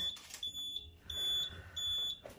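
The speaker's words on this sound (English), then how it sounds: "The alarm's going off." A smoke alarm sounds its shrill, high-pitched beeps in a repeating pattern over low background rumble, inside an abandoned mansion that was once a nursing home.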